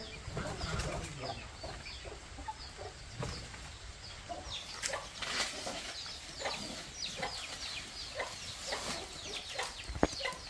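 Scattered clucks and soft calls from a group of chickens over a rustling, noisy background, with occasional wing flaps.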